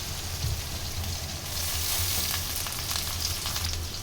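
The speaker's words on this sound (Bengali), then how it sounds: "এখন গরম মশলাগুলো দিয়ে দিব পেঁয়াজ ভাজতেছি" Whole garam masala spices drop into onions already frying in oil, a steady, close sizzle that keeps crackling for the whole stretch with no voices.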